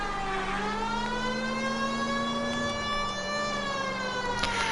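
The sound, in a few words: police car siren in a video game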